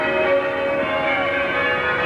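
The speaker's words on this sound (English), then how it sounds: "The bells are just beginning to recede" Large church-style bells ring continuously at Sydney Town Hall during the Olympic torch relay celebrations, a dense, loud, sustained peal of overlapping tones with no pause.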